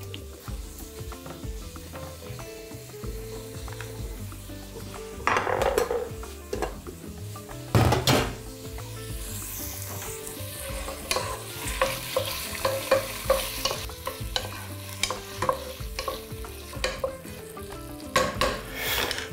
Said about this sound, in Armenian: Մինչ սիրտը տապակվում է